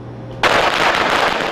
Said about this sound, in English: Shangongjing villagers light fireworks to celebrate their arrival